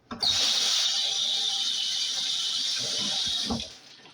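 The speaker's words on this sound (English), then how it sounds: "I just want to rinse off my hands" Water runs steadily from a kitchen tap for about three seconds as hands are rinsed during dolma preparation, a close, even hiss that cuts off near the end with a brief clunk.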